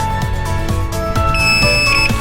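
A continuity tester gives a steady, loud electronic beep while probing the wires of a dual-voltage central vacuum hose, one continuous tone with no talking over it.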